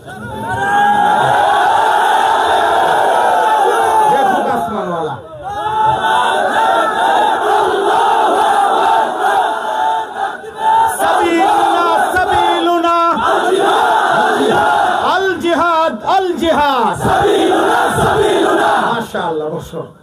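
A crowd of young men chants slogans together in loud, rhythmic unison, the call-and-response swelling and dipping across an outdoor gathering with no break in the shouting.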